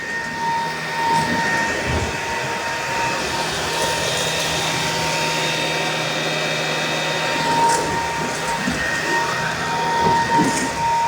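Bissell 4173 cordless carpet vacuum cleaner running, a steady loud motor whine and airflow roar that rises and falls slightly as it rolls, with no talk.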